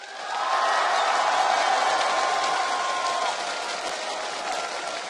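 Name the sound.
esports tournament crowd cheering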